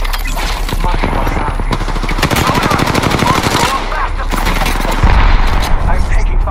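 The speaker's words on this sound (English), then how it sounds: "Getting shot at." Rapid automatic gunfire rattles through an Apex Legends firefight in close, loud bursts over several seconds, with heavier thumps near the end and a voice speaking at times.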